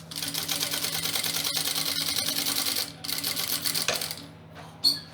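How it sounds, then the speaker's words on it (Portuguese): A sewing machine runs in fast, even bursts while stitching the side seam of a bag's fabric lining beside a framed pocket, stopping briefly twice before a final short whir close by. "Passar uma costura aqui, na lateral"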